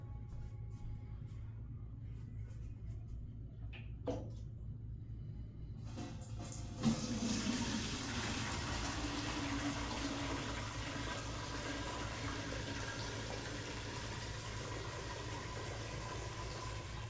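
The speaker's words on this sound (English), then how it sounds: "now we'll strain off the last bit of juice into another pot" Sugarcane juice pours and trickles through a strainer into a second pot, a continuous close liquid rush starting partway through over a steady low hum.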